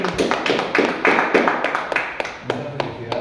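Classmates in a university civil-law class clap for fellow students, a dense, close burst of hand claps with irregular loud slaps over about three seconds, some voices mixed in.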